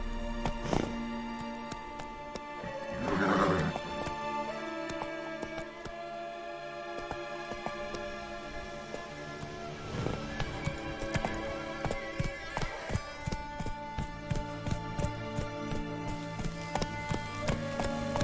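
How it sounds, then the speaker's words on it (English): A horse gallops in The Witcher 3 video game, with steady clip-clopping hoofbeats running under continuous game music and a brief louder burst near the start. "Whoa there, Roach. Giddy up."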